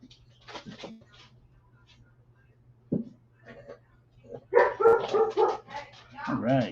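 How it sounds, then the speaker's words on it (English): Dogs bark and yip in short bursts, some faint and some louder and close, with a person talking in between and a steady low hum underneath. "get to hear the dogs barking"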